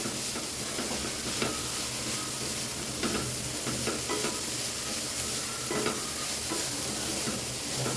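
Grated beetroot is stirred in a hot frying pan, with a steady sizzle and hiss broken by soft, regular scraping strokes of a spatula, heard up close and without talk.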